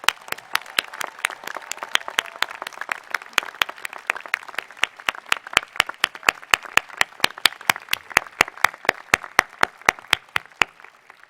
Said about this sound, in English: I ask, therefore, that we recognize all members of the Williams faculty and staff with our applause.